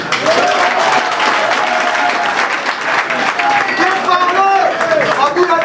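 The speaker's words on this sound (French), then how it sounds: "je demande à la salle d'applaudir pour le courage du docteur Etienne Ilongo" An audience in a hall breaks into sustained applause at a political event, dense clapping that holds loud and even throughout, with a speaker's voice carrying over it.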